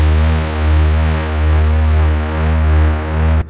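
Pitched-down bass sample from a Loopmasters pack, made for a track: a dense, sustained distorted low drone with a slow rhythmic swell roughly every second, loud and alone with no voices.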